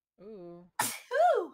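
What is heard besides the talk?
sneeze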